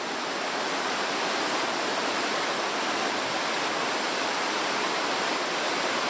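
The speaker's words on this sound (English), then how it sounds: "we now have these beautiful stepped waterfalls down to a lovely pool" Crystal Creek's stepped waterfalls pouring down into a swimming pool, a dense, constant roar of falling water, loud and unbroken with no voices.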